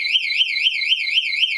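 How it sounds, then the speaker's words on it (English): An AKCP smart rack access alarm goes off after an unauthorized card is presented, a loud, high electronic warble that sweeps up and down in a fast, even cycle without a break. "when I attempt to use this, again an alarm can be sounded"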